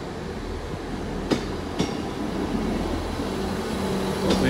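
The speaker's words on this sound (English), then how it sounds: "I know the train comes more or less where I'm standing now." A Great Western Railway train rolls into Exeter St Davids station with a steady, loud rumble, broken by a couple of sharp metallic clicks from the wheels and track. No one speaks.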